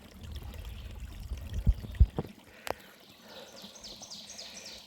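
Cold mountain spring water pours and trickles into a water bottle on a Catskills hiking trail, a brief splashing stream that fades out after a couple of seconds, with quiet outdoor background and faint birds afterward.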